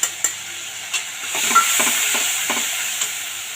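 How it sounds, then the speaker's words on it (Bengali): Chilli powder, cumin, turmeric and water sautéed in a pan for an aubergine and taro curry, a loud hissing sizzle with rhythmic clicks of a spatula stirring the mixture. "আবার একটু জল দিয়ে মশলাটা কষিয়ে নেবো ভালো করে"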